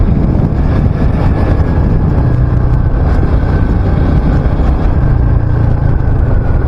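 A motorbike ridden at speed along an open stretch near Eco Park in New Town at night, giving a steady, loud engine drone blended with constant wind rush across the microphone, with no pauses or talk.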